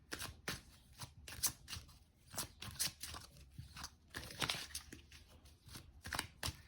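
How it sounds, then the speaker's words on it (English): Oracle cards being shuffled up close, quick papery riffles and bursts of crisp rustling repeating irregularly, fairly quiet with no talking. "I'm just shuffling these cards so we can get a really good spread"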